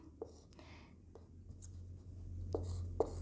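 A pen or pencil writing a matrix formula by hand on paper gives soft scratchy strokes and small taps, close and quiet over a low background hum.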